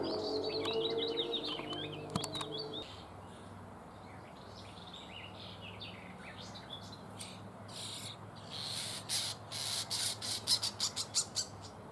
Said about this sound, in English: the chicks sounded quite big